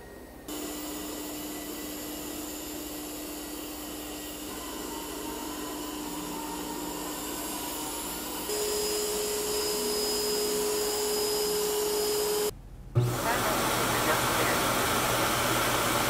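ECOVACS DEEBOT X1 OMNI robot vacuum running, a steady loud droning whir that steps up in pitch and volume partway through, cuts out briefly, then resumes with a lower hum.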